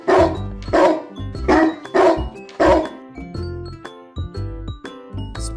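A dog barks in a quick series of loud, close woofs, about five strong barks followed by softer yips and jingling.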